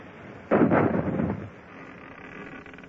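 Ship's cannon fire in a radio drama: one heavy booming blast with a rumbling, rolling tail that fades over about a second, followed by a quieter background.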